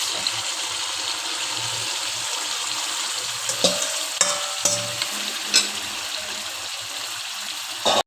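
Chicken pieces sizzle loudly in a pan, a constant close frying hiss broken by several scraping stirs and clinks of a spatula through the middle, ending in a sharp knock; no voices.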